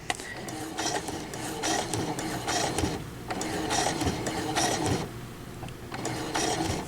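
Sewing machine stitching a quilt block runs with a steady, busy mechanical whir and rhythmic needle clatter, continuous and close throughout.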